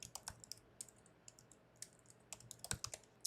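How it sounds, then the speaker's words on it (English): Quiet keystrokes tap irregularly on a computer keyboard, a short run of light clicks up close with nobody speaking. "I'm going to type in ornament right here."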